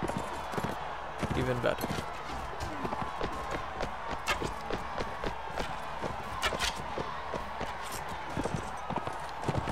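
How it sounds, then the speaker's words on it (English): A horse gallops in the video game Mount & Blade Warband, its hooves giving a rapid, steady clip-clop rhythm through the whole stretch, with a crowd murmuring behind and someone briefly speaking over it. "thank you, horse, for running towards me."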